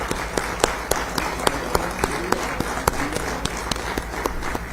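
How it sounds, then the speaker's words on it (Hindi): An audience at a 5G network launch event in Ujjain claps to welcome Chief Minister Shivraj Singh Chouhan, sparse loud individual claps standing out over a continuous low background hum, steady through the clip. "गणमान्य अतिथियों से निवेदन है कि जोरदार तालियों के साथ साथ दें"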